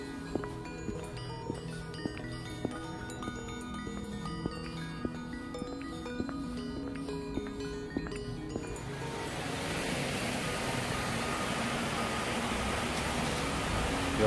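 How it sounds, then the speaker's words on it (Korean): A small stream runs beside a bus stop at an apartment complex in Seongbuk, its steady broadband rush taking over after about nine seconds and continuing to the end, preceded by tonal music-like sounds. "개울이 있네요."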